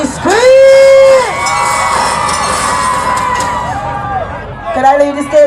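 Carnival crowd at an outdoor stage performance screaming, whooping and cheering loudly on cue, a dense continuous roar of many voices with shrill cries swelling at the start and again near the end.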